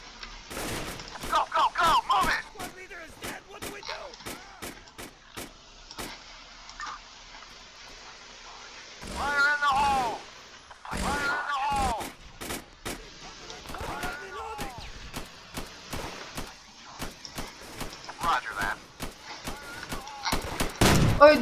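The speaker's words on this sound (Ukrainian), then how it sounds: "стріляємо всіх." Rapid bursts of gunfire in a video game about helping police neutralize terrorists, sharp cracks in quick volleys and single shots, with someone talking in between.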